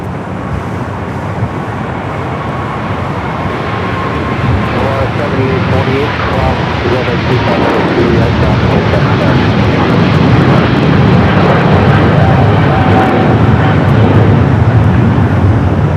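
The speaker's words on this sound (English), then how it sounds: "Philippine now rolling down that 25 right." A Philippine Airlines jet rolls down runway 25 right at LAX, its engine roar swelling steadily louder over sixteen seconds, with a voice talking over it.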